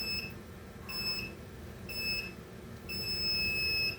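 Timer beeping in four high electronic tones, three short and the last held longer, repeating about once a second over a quiet room hum.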